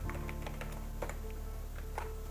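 Rapid keystrokes on a computer keyboard, someone typing Python code, a steady stream of close, light clicks with brief uneven pauses, heard alone without talk.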